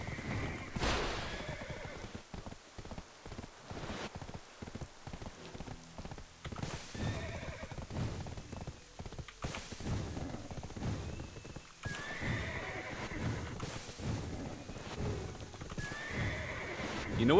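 Horse hooves clip-clop at a gallop in the online game Black Desert Online, with repeated neighs and whinnies over the rhythmic pounding, alongside a voice talking.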